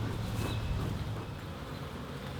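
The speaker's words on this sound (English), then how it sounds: "Ton of bees." A dense, steady buzz from a crowd of honey bees around an open hive close by, with a low droning hum and no pauses.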